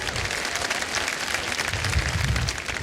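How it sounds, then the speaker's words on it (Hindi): A large audience at a Reliance 40-year celebration event claps in sustained, dense applause that stays loud and steady throughout. "एक बार फिर तालियां बज जाएं इन"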